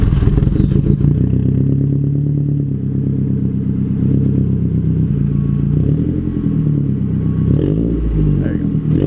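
A car engine turns over and catches, settling into a loud, throaty idle with deep rumbling exhaust, steady and close throughout.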